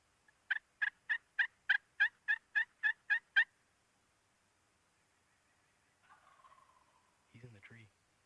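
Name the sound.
wild turkey calling in spring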